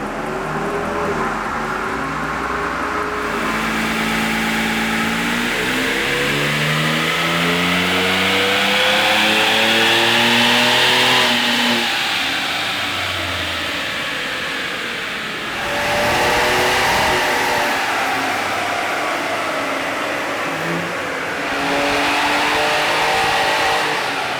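A Ford Ranger Raptor's twin-turbo V6 revs hard on a dyno, its loud engine note climbing through long rising pulls, easing off and then building again on the next run.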